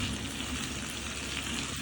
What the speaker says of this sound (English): potato gets fried